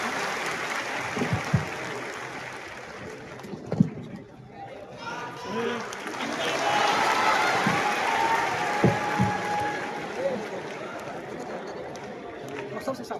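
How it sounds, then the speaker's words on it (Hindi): A seminar audience claps throughout, a steady wash of applause with scattered louder claps and crowd chatter, while a person speaks over it. "तालियां रुकनी नहीं चाहिए आप लोगों की आज।"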